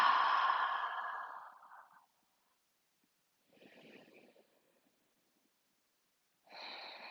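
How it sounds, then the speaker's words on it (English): A long, breathy exhale during a yoga breathing exercise fades out over about two seconds, then two softer, shorter breath sounds follow after a pause, all close and quiet with no talking. "And exhale."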